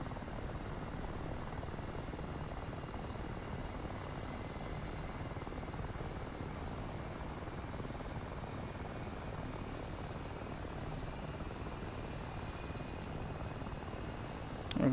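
An aircraft engine runs up with a steady, loud broadband roar and whine that holds unchanged throughout, close and continuous with no pauses.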